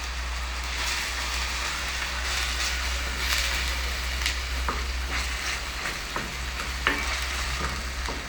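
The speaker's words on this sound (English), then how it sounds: "into your onions you put in your minced meat." Minced meat with ground onions frying in a pan: a loud, continuous sizzle with scraping and clinking as the mixture is stirred and broken up, close by.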